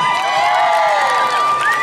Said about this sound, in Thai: ขออีกหนึ่งอย่างครับปรบมือให้กับคุณพ่อผมเลยครับ